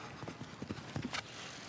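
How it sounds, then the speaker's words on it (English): Hooves of an 11-year-old Dutch Warmblood clip-clop in a show jumping ring at Spruce Meadows, a quick run of soft, fairly faint beats followed by a sharper knock. "And what a horse this is. 11-year-old Dutch Warmblood."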